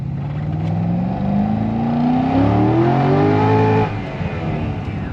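A Corvette C6 Z06 engine revs steadily upward in pitch for several seconds, loud and close, then drops off into a lower idle rumble.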